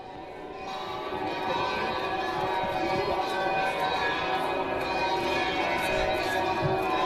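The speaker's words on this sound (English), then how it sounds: "Ring the bells harder. Keep going." Church bells ring out across Montreal in a continuous, layered peal, steady and sustained over a diffuse outdoor crowd murmur.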